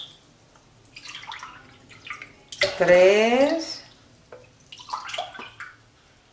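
Water poured glass by glass into a cooking pot, measuring out a liter for a cypress brew; a burst of splashing and trickling stands out in the middle, with a person talking around it.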